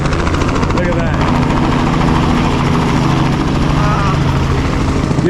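Helicopter engine and rotor drone steadily and loudly throughout a tour flight over Rio de Janeiro near Christ the Redeemer, with a constant low rumble and faint voices underneath.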